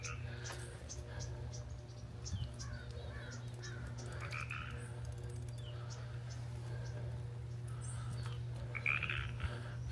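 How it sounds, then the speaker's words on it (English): Frogs croak in scattered bursts against a steady low hum, faint and distant, on a foggy morning, with occasional insect-like chirps in the background. "Got the frogs barking this morning."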